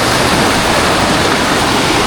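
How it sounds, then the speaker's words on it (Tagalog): Raging floodwater during a typhoon rushes past in a loud, constant roar of turbulent water. It sounds close and steady, with no voices. "Sumobra na yung laki ng tubig"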